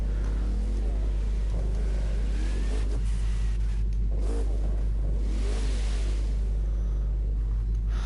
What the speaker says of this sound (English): That's a TVR Griffith behind me.